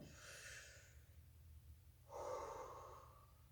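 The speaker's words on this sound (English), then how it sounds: "Breathing." Two quiet human breaths close to the microphone, a soft airy inhale followed after a pause by a fuller, louder exhale, with no talking.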